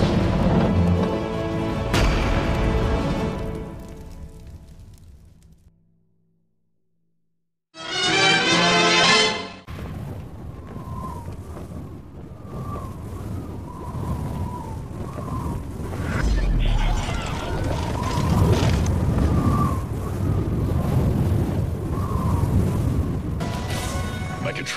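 Heavy .50-caliber gunfire and explosions in an animated battle: loud, dense broadband blasts and booms that cut off into a short silence, then return as a sustained roar of firing mixed with a tonal musical layer.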